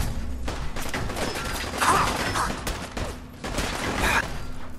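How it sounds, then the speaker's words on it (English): A grenade blast in Fallout 4 lands amid a dense wash of gunfire and combat noise, with a heavy burst near the middle and another swell toward the end, loud and close. "Grenade."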